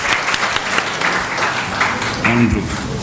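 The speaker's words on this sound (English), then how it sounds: "we have to give him a round of applause" Audience applause for an award winner at a Gujarat Innovation Society ceremony, a steady dense wash of clapping across the room with a brief voice or tone near the end.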